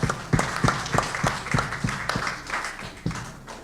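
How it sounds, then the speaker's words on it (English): An audience applauds at a formal ceremony, a burst of rhythmic clapping that starts in unison and then loosens into scattered claps over a few seconds. "Round of applause,"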